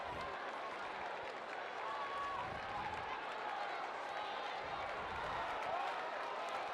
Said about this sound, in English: Crowd trying to make some noise here tonight with the Bees down big.